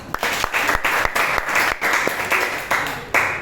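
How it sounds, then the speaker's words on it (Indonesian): Group applause after a physical education class movement session, a brisk, steady burst of clapping from several people at close range, with short rhythmic accents running throughout. "tepuk tangan untuk kita semua."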